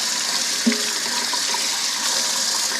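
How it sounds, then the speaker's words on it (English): A garlic press rinsed under a running kitchen tap while cooking skillet green beans: a steady broadband water hiss runs throughout, with one brief knock of metal near the start, no voices. "I always rinse my garlic press right after I use it"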